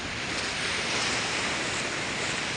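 Rough sea waves at Digha beach roar in a loud, continuous wash of surf, with no break and some wind across the microphone.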